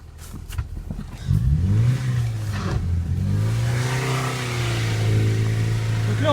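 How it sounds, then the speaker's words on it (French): A Ford Fiesta with a dead brake, restarted after a year of sitting, revs its engine while reversing, a loud close drone that rises and wavers steadily for several seconds. "J'attends que ça freine tout seul et puis j'y retourne en marche arrière."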